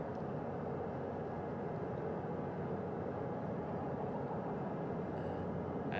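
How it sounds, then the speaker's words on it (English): A helicopter carrying two Artemis 2 crew members sets down, heard as a steady, distant, low rotor and engine roar that stays constant and fairly faint throughout, with no talk. "Wheels down of the first helicopter, carrying 2 of our Artemis 2 crew."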